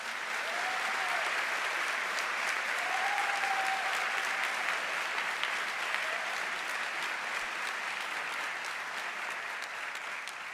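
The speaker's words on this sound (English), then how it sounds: "Let's give them a round of applause." Sustained audience applause at an Arkansas Boys State opening session, even and continuous from start to finish, moderately loud with a faint voice briefly audible early on.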